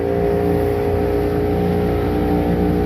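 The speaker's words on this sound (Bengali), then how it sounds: "আমরা এই যে স্পিড বোট রান করেছে" A speedboat engine drones loudly and steadily on the water at dusk, a continuous close motor roar with a strong low hum and no pauses.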